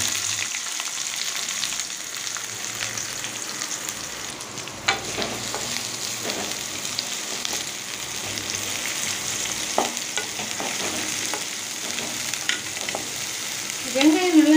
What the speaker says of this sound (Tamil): இப்போ பொடியாக கட் பண்ண வெங்காயத்தை நம்ம சேர்த்துக்கலாம்.